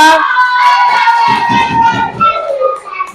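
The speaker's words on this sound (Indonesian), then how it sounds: "tepuk tangan yang meriah untuk kelompok 2" A class of schoolchildren cheers and shouts loudly for group 2 after a lesson presentation. The cheering is a dense burst of young voices with some clapping, and it fades slightly toward the end.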